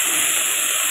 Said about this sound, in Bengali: আদা পেস্ট যে করেছিলাম সেটা তেলে দিয়ে দিলাম, মশলাটাকেও ফ্রাই করে নিচ্ছি হালকা করে একটু।